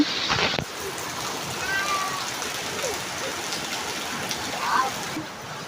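Steady rain pours down during a thunderstorm, a continuous broadband hiss that holds for several seconds, opened by a brief louder burst and dotted with a few faint chirps.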